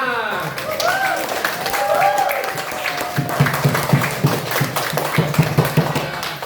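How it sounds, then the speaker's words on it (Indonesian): A primary-school classroom of sixth graders claps together, a burst of scattered hand claps with a teacher's voice talking over the start. "Untuk hari ini kasih tepuk tangan untuk kita semua."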